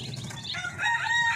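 Native Darag chicks and breeder hens chirping and clucking, a brief close burst of high peeping calls over a low murmur, without talk.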